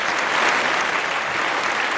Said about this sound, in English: let's give Walter a round of applause